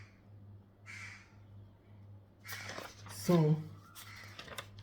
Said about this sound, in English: There are a lot of crows here, and they make so much noise.